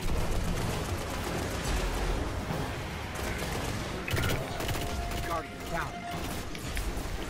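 Gunfire and clanking mechanical action during a heroic mission in the video game Destiny, with repeated shots in bursts amid busy combat noise, fairly close, and excited players talking over it.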